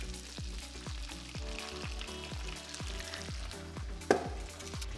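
Eggs sizzle and crackle steadily in a hot buttered pan, with a rhythmic bubbling pulse and a brief louder pop near the end.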